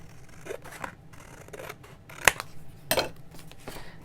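Scissors trim a paper piece for a dark Halloween journal kit, with two crisp close snips standing out against faint rustling of paper.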